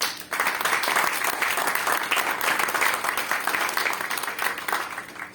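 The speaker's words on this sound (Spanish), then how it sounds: "Denle un aplauso al Señor." A church congregation at a Sunday school class bursts into applause after a brief pause, dense clapping from many people filling the room steadily and loudly before tapering slightly at the end.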